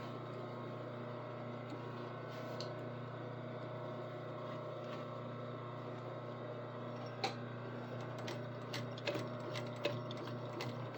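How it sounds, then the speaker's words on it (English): A sewing machine backstitches, its steady motor hum and rapid needle chatter running without a break, with a few clicks and taps near the end. "I'm going to backstitch the end of it to make sure it stays in once it's started."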